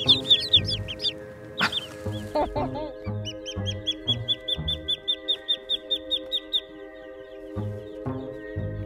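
Baby ducklings just arrived by mail give rapid, high peeping calls, clustered and close, with a quieter stretch of repeated cheeps and faint scuffling.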